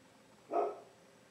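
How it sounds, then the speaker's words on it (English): A single dog bark, one short burst in the background of a quiet indoor room, with no talking over it. "My dog's in the background."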